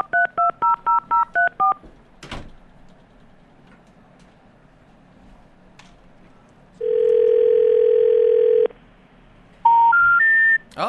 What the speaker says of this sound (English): we're going to try calling Holly again